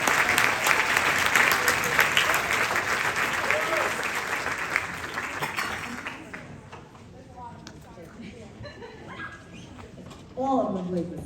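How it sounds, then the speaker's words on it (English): Audience applause at a seventh grade school band concert, dense clapping filling the hall for about six seconds before thinning out into scattered claps and murmuring voices. "So really, they deserve another round of applause as they do this tonight."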